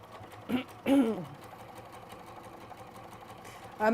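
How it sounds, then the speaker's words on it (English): A sewing machine stitches directly on a marked seam line, its motor running in short bursts with voices partly overlapping. "And this time we're sewing on the line"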